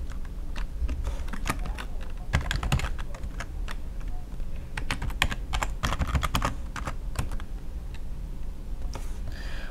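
Rapid keyboard typing on a computer while logging into Roundcube webmail, with irregular clusters of crisp key clicks throughout and no voices.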